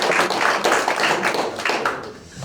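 A church forum audience applauds, a few loud rhythmic rounds of clapping hands that fade toward the end, without speech.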